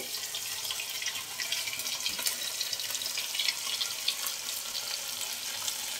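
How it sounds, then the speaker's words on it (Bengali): Lote fish cutlets frying in a pan, a fairly soft, continuous hiss and sizzle of oil with slight bubbling fluctuations, close by and without speech. "এইভাবে ভেজে নেব।"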